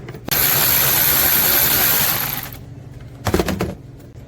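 A ratchet spins loose 10mm bolts from a plastic air inlet on a 2014 Infiniti QX60: a long, steady, loud clicking run, a pause, then a short second burst of clicks, with no one talking.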